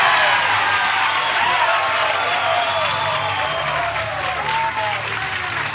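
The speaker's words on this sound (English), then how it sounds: "Big crowd applause on that one from Missy." Big crowd at a professional women's bowling championship match giving sustained applause and cheers, a broad wash of clapping with scattered whoops while a commentator talks over it.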